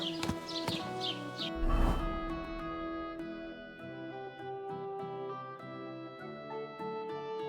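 Horse in Kingdom Come: Deliverance 2 whinnying briefly, then a rumbling snort, with steady music underneath throughout.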